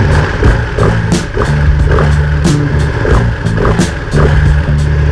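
A 2020 Ducati Panigale V2 exhaust barks in repeated loud, close blips of revving, rhythmic bursts rising and falling over a rumbling idle.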